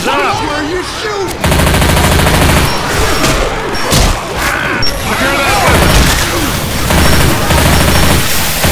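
Rapid gunfire from Left 4 Dead 2 gameplay, dense bursts of automatic shots loud and continuous across the clip, with voices calling out over the shooting.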